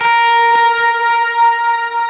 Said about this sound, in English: You kind of hear the octave on that and just a bloom reverb that I've been using.